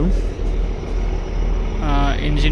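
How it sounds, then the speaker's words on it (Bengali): The engine of the Surabhi-9 river launch, an old passenger vessel, drones loudly and steadily in its engine room, a deep continuous rumble with a voice talking over it toward the end. "এ হচ্ছে ইঞ্জিন"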